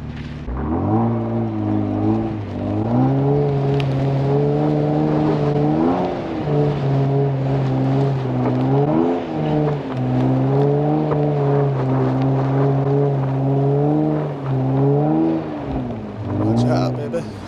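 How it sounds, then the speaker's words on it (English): A Kia Stinger AWD engine drones loud and close in sport mode with traction control off, its pitch rising and falling through several revving swells over a steady growl. "I'm gonna leave the microphone on me so you can hear the engine good"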